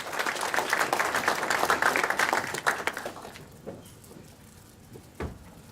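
A conference audience at a Singapore expo keynote claps in dense, sustained applause that fades after about three seconds, leaving a few scattered claps and a light knock.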